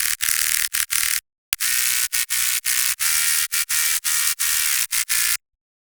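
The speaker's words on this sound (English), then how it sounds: "this basically is a high-end layer, which is very wide and very noisy" A wide, noisy high-end synth bass layer made in Serum hisses in bright, static-like bursts. Short gated stabs are cut by abrupt silences in a choppy rhythm.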